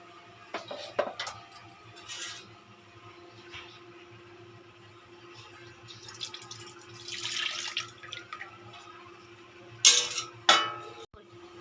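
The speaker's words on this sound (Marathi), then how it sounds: "त्या वाटपाच्या भांड्यातच थोडंसं पाणी ओतायचं जेणेकरून त्याला लागलेला मसाला पण येईल." Water poured from a spice-grinding jar into a pot while fish curry (pomfret saar) is made in a kitchen, a faint running trickle with light clinks of the vessel and a brief louder splash near the end.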